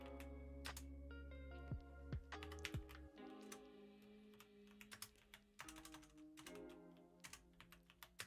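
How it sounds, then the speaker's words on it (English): Keys clatter on a computer keyboard in irregular bursts of close, crisp taps with short pauses between runs, no voice over them. "Keep typing wrong."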